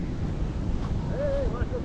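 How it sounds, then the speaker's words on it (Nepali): Sea waves break on the shore in a steady surging wash, mixed with wind rumble on the microphone. "यार कस्तो छाला हानेको यार"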